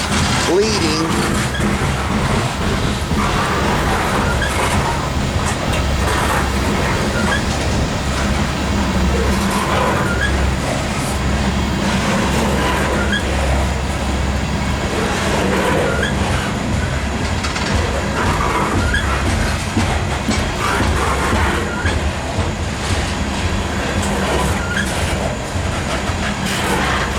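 A loaded CSX coal train climbs the Lincolnton Hill behind two ES44AH locomotives, a loud continuous roar of engines and rolling cars with steady clatter, close and unbroken throughout.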